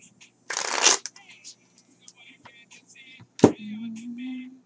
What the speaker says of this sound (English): Let me pull from a different deck.